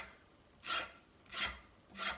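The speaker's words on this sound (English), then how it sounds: "You can scrape it down your pepper." The back of a kitchen knife blade scrapes down a pepper in three separate rasping strokes, evenly spaced, close and fairly loud, with no talking.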